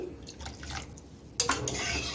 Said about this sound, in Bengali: হাফ কাপের মতো জল অ্যাড করে দিচ্ছি